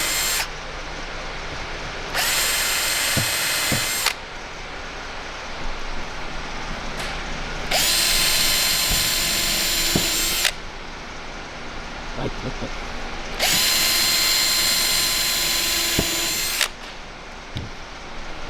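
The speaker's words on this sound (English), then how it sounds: "drill out your 4 holes in this end" A power drill bores holes in the end of a PEAK window slider latch in three separate bursts of a few seconds each, loud high whining runs with quieter handling noise and faint knocks in between.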